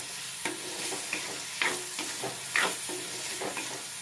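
Onions and tomato frying in coconut oil for a jackfruit seed curry are stirred, giving a steady soft sizzle broken by several close, sharp scraping strokes of the spoon against the pan at an irregular rhythm, with no voices.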